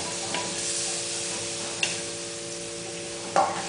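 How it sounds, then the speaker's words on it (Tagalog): Meat and garlic sizzle in a hot pan for Bicol express, a steady close hiss of frying broken by a few sharp clinks of a utensil stirring against the pan. "Gigisahin muna ang karne. Bawang."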